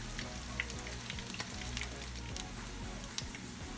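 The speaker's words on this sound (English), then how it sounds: "Now we will let that side cook for about a minute and a half." Veggie fritters frying in a pan over medium heat: a continuous crackling sizzle with dense small pops, steady and fairly faint, with a low hum underneath.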